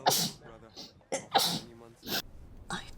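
A sharp sneeze bursts out near the start, followed by a second sneeze-like burst and breathy vocal sounds, close and fairly loud.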